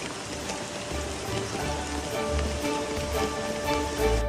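Steady rain falls in Goa, a dense, even hiss of drops hitting surfaces that holds at a constant level throughout, close and unbroken, with no voices.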